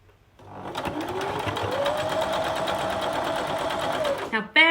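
A sewing machine stitches a seam through layered fabric, running in one steady, close, high whirring hum for about four seconds before stopping, with a brief voice right at the end.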